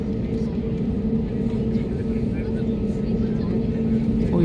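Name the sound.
airplane taxiing at Guwahati airport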